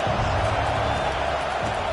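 A stadium crowd in the video game Madden 22 roars in a dense, steady wash of cheering that holds at a constant loud level throughout the short stretch.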